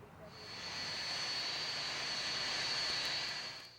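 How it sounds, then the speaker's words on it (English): Planes land at a 2001 California 9/11 memorial dedication, a loud jet roar that swells, holds steadily, then fades away over a few seconds. "As the planes landed, they were showered with water."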